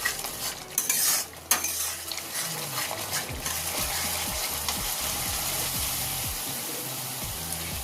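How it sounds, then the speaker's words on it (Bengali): Koi fish masala cooks in oil in a pan while a spatula stirs it, giving brisk scraping strokes and a few metallic clinks over a steady soft sizzle, close and fairly quiet. "তো আমি আরও একবার নেড়ে দিচ্ছি।"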